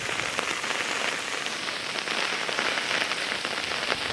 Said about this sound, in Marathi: पाऊस पडतोय जोरात